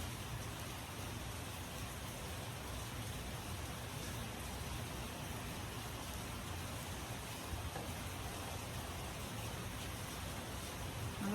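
Heavy rain falling, a constant dense hiss without pauses, fairly faint and steady throughout.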